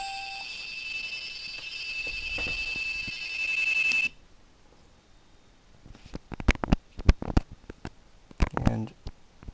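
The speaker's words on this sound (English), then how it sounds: "There's the bell." A bell alert from an Arduino-built iPhone docking station rings loudly and steadily for about four seconds, then cuts off, followed by a run of sharp clicks and handling taps.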